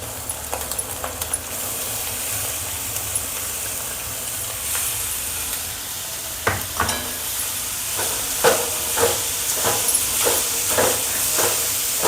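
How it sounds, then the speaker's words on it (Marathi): Shredded cabbage with turmeric for a paratha filling, stirred in a hot pan: a constant hissing sizzle with a run of quick utensil scrapes and taps growing busier toward the end, no talking. "आता कोबी टाकते।"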